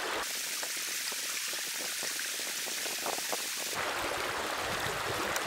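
River water rushes and flows continuously in a broad hiss, shifting abruptly to a fuller, louder wash partway through, with no voices.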